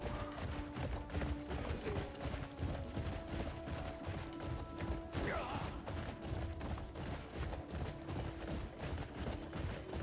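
Horse hooves galloping in the video game Crimson Desert, a steady rapid thudding rhythm that runs through the whole stretch under a dense layer of game ambience and music.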